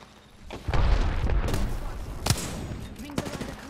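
Gunfire in the video game Apex Legends: a few sharp, loud weapon shots burst out over a dense, rumbling game mix, with one standout crack midway and another near the end.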